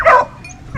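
A dog gives a short yelping bark followed by a brief whimper, close and fairly loud, from a kennel of puppies outdoors.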